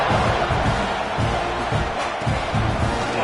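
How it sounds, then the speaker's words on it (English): A stadium crowd in the college football video game NCAA 26 roars at kickoff, a broad continuous wash of cheering with rhythmic surges, dense and loud without clear speech. "this crowd now ready to get behind them"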